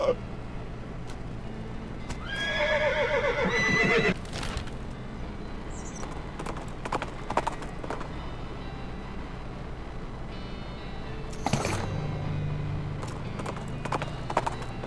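The Crazy Eye horse in West of Loathing whinnies loudly for a couple of seconds, followed by scattered hoof clip-clops and soft game ambience, with a second brief whinny-like burst later.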